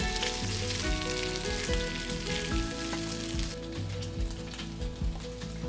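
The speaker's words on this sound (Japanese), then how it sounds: "余計な油を落とすために表面カリッと焼きます" Pork belly sizzles in a hot pan as its surface fries crisp for an Okinawan-style champuru, a steady close crackling hiss with no voices over it.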